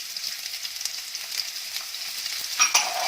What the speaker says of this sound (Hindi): अब इसमें प्याज डालेंगे और हरी मिर्च डाल देंगे